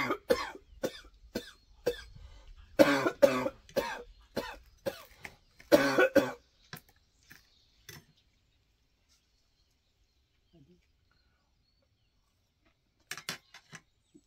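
Someone coughs in a rapid series of harsh, close bursts after eating a very hot pepper, then the coughing trails off into quiet, with a few more faint coughs near the end.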